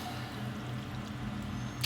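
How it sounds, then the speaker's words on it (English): Water trickles and pours quietly from a repaired garden fountain, a steady, faint liquid flow over a low background hum. "still was oozing water"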